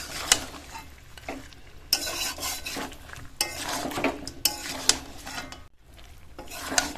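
Chicken curry with tomato wedges frying in a kadai, stirred repeatedly: close, busy scraping and clattering of a spoon against metal over a constant low sizzle, with brief pauses between strokes.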